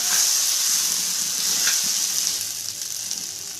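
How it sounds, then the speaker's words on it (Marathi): Sago pearls being stirred into hot oil with softened tomatoes for sabudana khichdi, giving a steady, close, continuous sizzle with a soft scrape of stirring partway through. "आता तर ही साबुदाणा टाकून घेते याचा मिक्स करून घ्यायचं छान"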